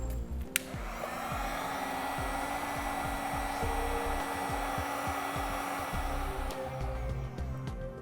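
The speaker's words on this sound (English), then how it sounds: "we'll seal it up using some heat from a heat gun." Heat gun blowing a steady, whooshing rush of hot air at close range while sealing a heat-shrink butt connector on trailer light wiring, with a small click near the start.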